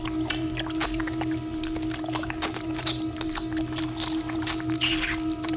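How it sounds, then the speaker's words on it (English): A slimy cyborg effect from the movie Mutant Hunt plays as a continuous wet, squelching and gurgling texture with a steady low hum and scattered slurpy bursts, moderately loud and unbroken. "the worst is the sound effect that accompanies the slimy cyborgs"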